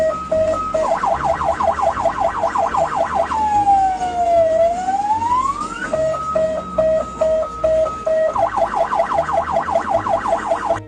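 An ambulance siren blares loud and close, moving from a rapid yelp into a slow falling-and-rising wail, then an alternating two-tone pattern, and back into the fast yelp.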